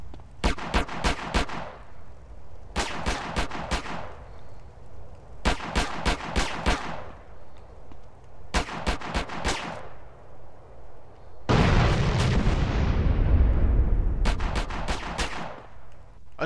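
Gunfire from the video game GTA San Andreas: repeated quick bursts of shots in even groups, loud and close, followed by a longer roaring blast, with no talking.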